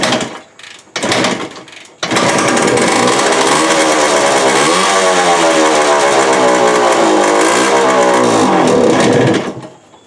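A 1975 TS 125 motorcycle, cold with the choke on and no throttle, coughs through a few short bursts, then catches and runs loud and close with a wavering, buzzy two-stroke note for several seconds before dying away.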